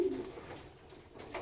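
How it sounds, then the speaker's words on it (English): Racing pigeons of the Bastine family coo softly inside a loft, a low murmuring call at the start with quieter rustling after it, heard from nearby. "Beautiful, beautiful pigeons."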